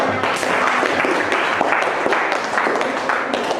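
Classroom pupils clap their hands together in a dense, sustained burst of applause, steady and fairly loud throughout with scattered voices mixed in.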